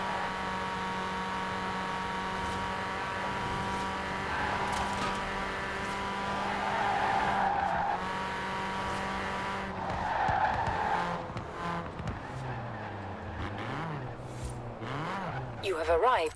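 A tuned car with twin turbos in Forza Horizon 4 revs hard and accelerates, steady engine drone rising with loud tire squeals and skidding in bursts toward the end, close and continuous.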